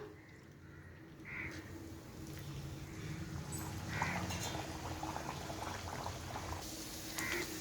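Moong dal puri dough frying in hot oil, a steady soft bubbling sizzle with a few brief brighter pops, close by with no talk.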